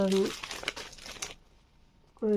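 Craft rice paper from the Blue Dream collection is crinkled and handled for about a second, a dry rustling crackle, with a brief voice just before and after.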